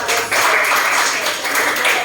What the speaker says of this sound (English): Give her a applause.